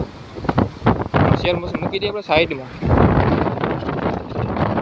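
Wind gusts buffet the microphone outdoors on a farm in bursts of rushing noise, while someone talks over them at close range.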